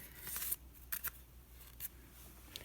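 Scissors snip yarn for latch hook work, a few quiet, close, crisp cuts: one longer snip, then two quick ones and a couple of lighter clicks in a hushed room.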